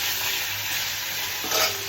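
Pieces of hilsa fish fry in a pan with a close, continuous sizzle and a brief stir or turn near the end.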